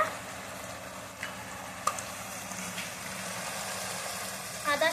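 Spice paste of ground chilli, mustard and poppy seed frying in oil for a hilsa fish curry, a steady soft sizzle with occasional stirring clinks, fairly close.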